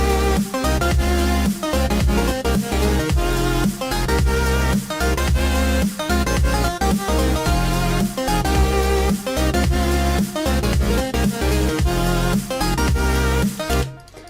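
Synth melody played on a Nexus layer in an electronic dance production, a loud, dense, continuously driving pattern of rhythmic stabs and beats that cuts off at the end.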